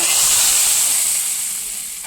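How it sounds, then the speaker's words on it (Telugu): Mustard seeds, cumin, asafoetida, dried chilli and curry leaves sizzle in hot oil as a tempering for homemade sambar, a steady close hiss that slowly softens, with no voices. "ఆవాలు జీలకర్ర ఇంగువ ఎండుమిరపకాయ కరివేపాకు వేసి పోపు వేసేస్తున్నాను"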